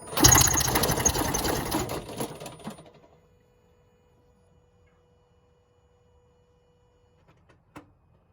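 A Toyota Highlander Hybrid with a blown engine and transmission starts with a loud, close, rapid mechanical rattling whir that lasts under three seconds, then cuts out into near silence broken by a faint click.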